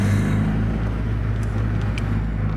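A manual car's engine idles and hums steadily from inside the cabin while the driver works the clutch and gas, a low constant drone with faint clicks.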